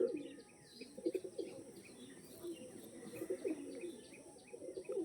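Pigeons coo softly and repeatedly at close range, their low throaty calls rising and falling in an irregular rhythm, with faint chirps in the background.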